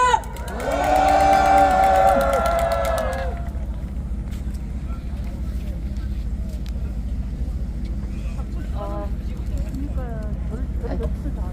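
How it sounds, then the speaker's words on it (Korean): A crowd at a nighttime candlelight rally in front of the Constitutional Court cheers loudly for a couple of seconds, then fades into background murmur and passing traffic. "김 선생님 큰 박수로 무대로 모시겠습니다."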